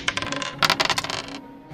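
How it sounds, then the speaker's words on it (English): Damage dice clatter across a tabletop during a Dungeons & Dragons game, a quick run of hard plastic clicks and rattles that settles to a stop, close and alone. "Roll your damage dice twice."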